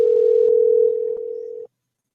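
A telephone call tone sounds as one steady, loud electronic hum while the caller waits for an answer, stepping down slightly in level partway through before cutting off abruptly into silence.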